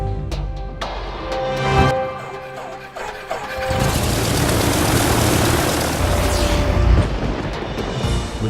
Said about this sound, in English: When these engines roar,